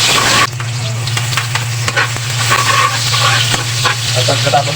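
Garlic and onion sauté in a hot pan with a loud, steady sizzle throughout, plus intermittent scraping and stirring clicks up close, under a low continuous hum and with no talking.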